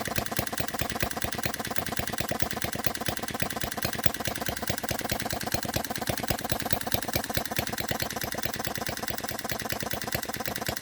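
A tiny Morse Z 3.6cc hit-and-miss petrol model engine runs close by, giving a fast, even, mechanical ticking and chuffing that holds a steady rhythm throughout.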